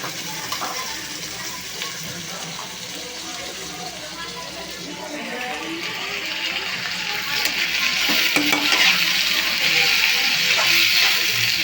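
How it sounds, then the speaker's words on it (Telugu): Brinjal pieces fry in a pan with already browned onions for a jackfruit seed curry. A continuous close sizzle builds louder and brighter toward the end, with occasional stirring scrapes. "దీంట్లో అయితే వంకాయలు అనేది వేసేసుకుని అవి కూడా ఫ్రై చేసుకుందామండి"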